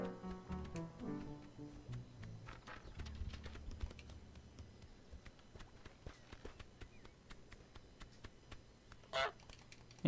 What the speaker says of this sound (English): There's a goose on the loose.